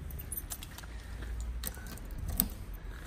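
Keys for a Honda CBX 1000 six-cylinder motorcycle jangling close up, a brief cluster of light metallic clinks and rattles over soft handling noise.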